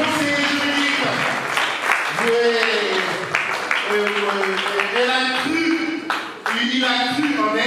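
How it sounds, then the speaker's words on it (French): An audience applauds at an evening ceremony, a continuous wash of clapping under music with sustained tones and a voice carrying over it, briefly dipping before resuming. "je vous prie d'applaudir très fort le conseiller juridique"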